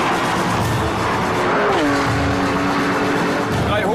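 A Porsche 911 GT3 runs flat-out near top speed on a four-kilometre airfield runway, its engine roaring loud and unbroken as the pitch climbs and then levels off, with steady wind and tyre rumble close by.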